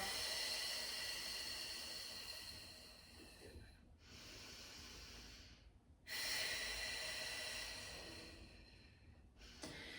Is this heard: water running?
no